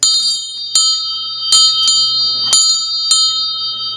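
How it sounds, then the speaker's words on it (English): A small miniature bell, a model of a rope-pulled bell, rings out in six sharp bright strikes at uneven intervals, each leaving a sustained shimmering ring close by with no talking. "a miniature of a bell that would be pulled by a rope"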